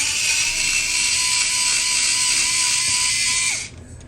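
Ryobi 4V cordless screwdriver backing screws out, a steady close high-pitched motor whine holding for about three and a half seconds before cutting off abruptly into quiet.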